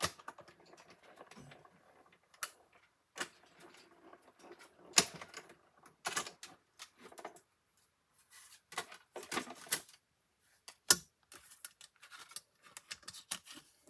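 Scissors cutting out a paper piece for a Potions & Spells treat box, a string of sharp snips and crisp paper rustles with short pauses between cuts, close and fairly quiet.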